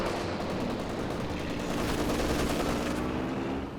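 Battle in Company of Heroes 2 with a Panzer IV engaging a Pershing tank: a dense, continuous wash of gunfire and explosions, loud and unbroken for the whole stretch, without speech.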